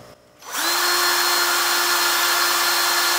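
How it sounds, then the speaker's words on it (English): After a brief quiet moment, a power drill with a 3/8 inch bit whirs up, boring out the center of an Aerogarden grow light part, running steadily at a high, constant whine, close and loud, with no talking. "using a 3/8 inch drill bit, just gonna drill the center out of this thing"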